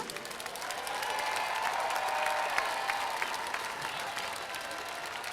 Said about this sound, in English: let's give a big round of applause to all of our banner entries